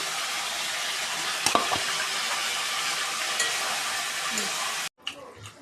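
Curry with spices sizzles and fries in a pan while being stirred, a loud steady hiss with a few scrapes and clicks, cutting off abruptly near the end.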